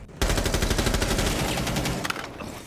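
An SMG 11 submachine gun in a video game fires one rapid, loud automatic burst of about two seconds, with each shot distinct in the rattle before it cuts off.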